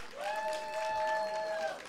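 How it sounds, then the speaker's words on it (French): At a Counter-Strike grand final esports event, spectators applaud beneath a sustained, bright tonal sound that rings steadily across the short moment. "S'il vous plaît, on les applaudit très fort."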